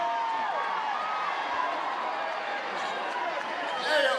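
A rally crowd at a Hillary Clinton campaign event boos in a dense, sustained mass of voices that swells slightly at the end.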